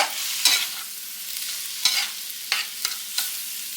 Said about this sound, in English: I'm going to add my sausage in with them and continue cooking them until the eggs are done.